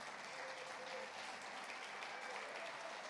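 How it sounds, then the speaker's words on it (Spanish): A church congregation at a Pentecost service gives the pastor a strong round of applause, steady sustained clapping heard at a moderate distance with a faint crowd murmur underneath. "otro fuerte aplauso por la vida del pastor"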